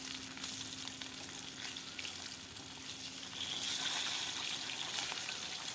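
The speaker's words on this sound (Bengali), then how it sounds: "এবার আমি ঝোলটা কীভাবে সাঁতলাবো তোমরা দেখতে থাকো বন্ধুরা" Fish curry sizzling and spitting steadily as it is sautéed in a pan, a continuous close frying hiss that swells slightly toward the end, with no voices.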